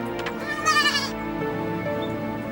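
A goat bleats in a wavering cry up close, with a shorter call after it, set against a steady low background hum.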